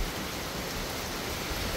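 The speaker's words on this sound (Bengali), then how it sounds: "বৃষ্টি বেশি না কিন্তু বাতাসটা বেশি" Strong wind with light rain outdoors near a river, a dense, even rush of noise that carries on steadily without voices.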